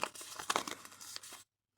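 A collectible packet is torn open by hand with a crisp, crinkly rip and rustle of foil or plastic lasting about a second and a half, close up, then a brief silence and a last crinkle.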